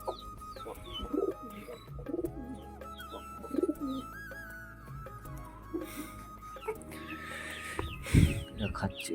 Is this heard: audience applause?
no